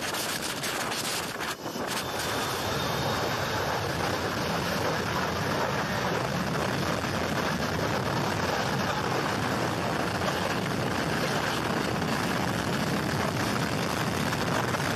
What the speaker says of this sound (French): Les touristes veulent filmer un avion prêt à décoller, mais ils se font tous souffler par les réacteurs de l'avion